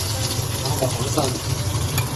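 Wild rice-field eel stir-fried in a wok with garlic gives a steady close sizzle and hiss, with faint scraping from stirring running through it.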